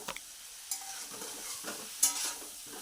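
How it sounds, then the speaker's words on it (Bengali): Cauliflower frying in oil with turmeric and occasionally stirred, a quiet sizzle with a few scattered spoon scrapes and taps up close, no talk. "এইভাবে মাঝে মধ্যে একটু নেড়ে চেড়ে নিচ্ছি।"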